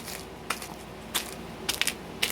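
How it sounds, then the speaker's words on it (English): Several sharp crunching impacts of a box of Arm & Hammer smashing items down land at irregular intervals, each a brief crushing crack over a low background hiss. "I'm just smashing it down"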